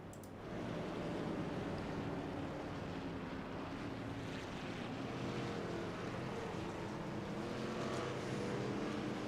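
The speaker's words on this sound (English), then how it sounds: "the cars come rolling down the backstretch here" Race cars from the Blown Piston Racing League at Las Vegas roll down the backstretch on a pace lap, a steady, broad engine rumble with wind-like roar holding level throughout, no voices.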